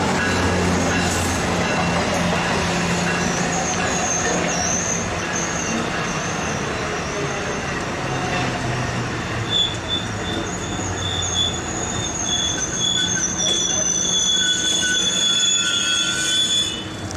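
A northbound MARC commuter train slows to a stop, its wheels squealing in high, shifting metallic tones over a steady rolling rumble, close by and loud on a windy day.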